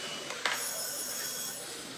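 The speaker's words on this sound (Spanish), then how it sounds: "¿Qué empezó a sonar el teléfono?" A telephone rings in a radio studio, a faint, brief trill over a steady background hum.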